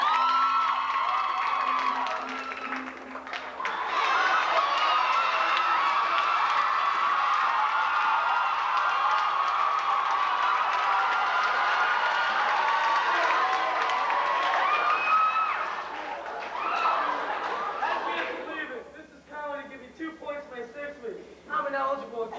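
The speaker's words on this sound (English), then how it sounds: "Let's have a big round of applause for Derek." A high school senior variety show crowd breaks into loud, sustained applause and cheering with whoops for a sophomore performer, rising after a few seconds and holding steady before fading into scattered voices.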